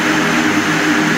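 Airdrop planes in the video game Rust drone overhead as a steady, loud, continuous engine roar with no breaks or voices.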